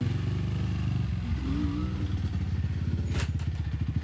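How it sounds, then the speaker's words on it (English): Dirt bike engine passing close by, a loud mid-pitched two-stroke buzz with pulsing revs that rises as it goes by and stays strong to the end. "if Matt wanted to keep riding dirt bikes"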